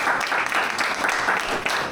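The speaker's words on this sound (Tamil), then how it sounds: "கைத்தட்டி வாழ்த்துக்கள் சொல்லுவோம்." Guests at a house warming ceremony applaud together, a dense, sustained round of many hands clapping that holds steady and fairly loud throughout, without speech.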